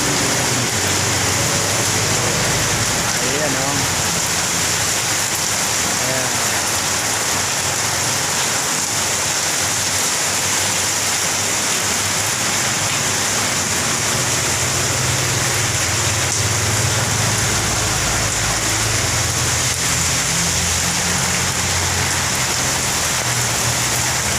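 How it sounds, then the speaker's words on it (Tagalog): Dense, steady roar of heavy rain on a roof in Laguna, Philippines, loud and continuous throughout with no pauses. "malakas po ang ulan ngayon dito sa amin"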